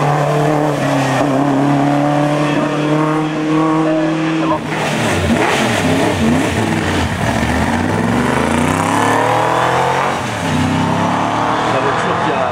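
A historic Corvette race car, freshly restored, at the Turckheim hill climb, its loud engine revving and shifting through gears up close, with pitch sweeps as it accelerates past while a commentator talks over it.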